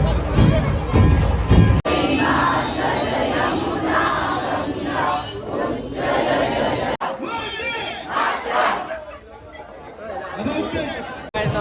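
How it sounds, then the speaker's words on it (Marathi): A large, dense crowd packs an Independence Day flag-salute celebration, with loud overlapping chatter, shouts and rising cries filling the space continuously and close by, briefly broken by a couple of abrupt cuts. "गर्दी इथं बसायला जागा नाही, पायला जागा नाही"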